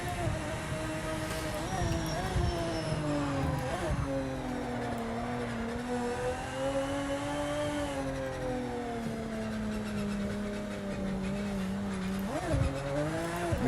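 In a racing video game, a car's front tyres lock under braking, and a brief squeal cuts across the loud, steady engine drone that shifts pitch as the car slows and picks up speed again.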